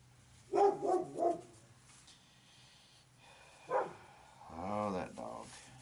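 A dog barks three quick times at mid distance in a woodturning workshop, then gives a couple more yelps later, with quiet speech in between.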